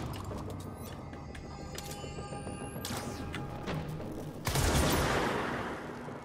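Weapon fire in the action game Control: a steady stream of rapid, moderately loud shots with a few sharper bursts, closing on a louder blast that fades out.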